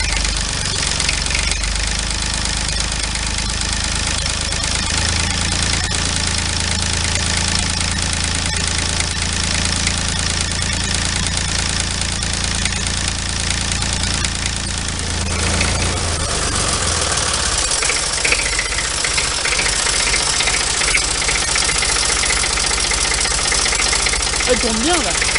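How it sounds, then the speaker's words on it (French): A Renault D30 tractor engine idles steadily and close by, a low throbbing diesel rumble sustained throughout, with a slight change in pitch partway through as someone talks over it. "Il tourne bien là. Là il a un beau ralenti là."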